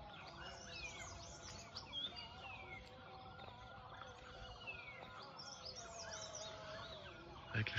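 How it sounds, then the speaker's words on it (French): Birds sing and chirp steadily at sunrise across a Himalayan valley in Nepal, a dense overlapping chorus of varied tweets and trills at moderate distance with no talking. "Avec le chant des oiseaux,"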